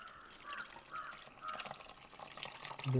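Homemade grape wine trickling out as it is poured, a faint, uneven liquid splashing and dribbling that grows louder toward the end.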